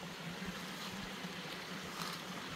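A mountain stream flows steadily on a cool autumn morning, a soft, even rushing that stays faint and unbroken throughout, with no voices.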